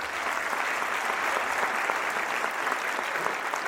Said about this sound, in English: A round of applause if that's all right